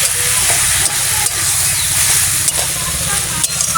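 Cumin and chilli sauté in a hot pan, giving a loud, continuous hissing sizzle with faint scraping from stirring, close by and steady for the whole stretch.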